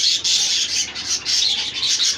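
Hagoromo king budgerigars in a breeding setup squawking and chattering in a dense, loud, continuous chorus of harsh raspy calls close by.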